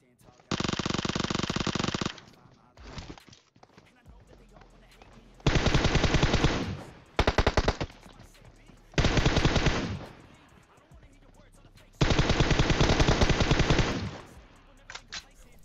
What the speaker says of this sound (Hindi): इसे पेलने के लिए उजी की सारी गोलियां चला दी है